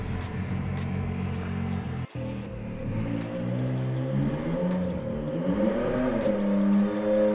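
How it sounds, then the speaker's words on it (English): A car engine starts remotely and settles into a steady running rumble with some revving, heard up close and alone throughout. "We can start the car from here just because we can."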